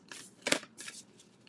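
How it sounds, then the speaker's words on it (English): Tarot cards riffle and slap together in a few quick, close shuffling bursts, one louder snap in the middle, with no voices. "These are hard to shuffle."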